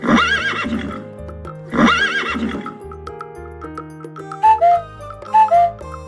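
A young horse (foal) whinnies twice loudly, and each call trails into lighter clip-clopping hoofbeats, all set over a steady musical backing.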